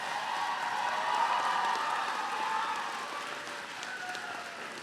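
A large graduation crowd at the CVU 2019 ceremony gives sustained applause, a steady wash of many hands clapping at moderate volume. It fades slightly toward the end, with no clear speech over it.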